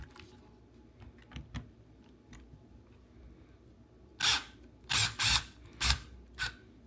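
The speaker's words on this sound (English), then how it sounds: "now you're going to take your T20 and you're going to remove these bolts here." A T20 driver works loose the steering wheel bolts on a Mustang, giving faint clicks followed by a run of sharp, close ratcheting and metallic snaps in quick succession.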